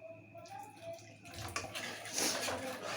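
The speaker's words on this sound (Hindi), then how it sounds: "एबे आम ये पानी ऐड करवा।" Water is poured into a pan of fish kurma masala with onion, cashew and yogurt paste, a close, splashing pour that builds in strength over a few seconds.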